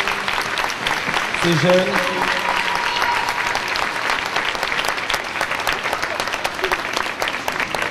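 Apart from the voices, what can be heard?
audience applause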